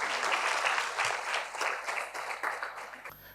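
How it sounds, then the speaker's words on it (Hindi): An audience applauds to welcome a speaker at a women's event, a dense, even wash of many hands clapping that fades slightly toward the end. "चलिए उनको ज़ोरदार तालियों से स्वागत कीजिए उनका।"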